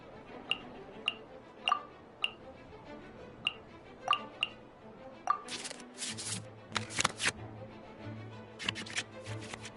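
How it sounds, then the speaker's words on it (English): Cards being shuffled back into the draw pile in the Genshin Impact card game, heard as a series of light, evenly spaced clicks followed by denser bursts of shuffling and clinking interface sounds, with no talking. "we can select any number of cards in our hand to shuffle back into the draw pile"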